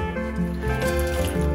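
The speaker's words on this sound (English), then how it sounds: "add some lukewarm water inside." Lukewarm water poured gradually into a flour and salt dough mix for Hungarian langos fried flatbread, giving a soft steady trickle for a moment, close and quiet, with no talk.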